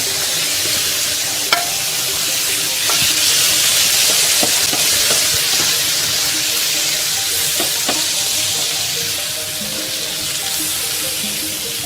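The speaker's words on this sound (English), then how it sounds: "now we're going to saute the prawns a little bit" Prawns sautéing for seafood paella give a steady loud sizzle throughout, with occasional utensil taps and scrapes as they are turned in the pan.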